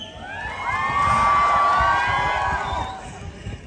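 A college crowd at a movie promotion event cheers, whoops and hoots, a dense roar of many young voices swelling loudly and then easing off over a few seconds, with high whistling shouts on top.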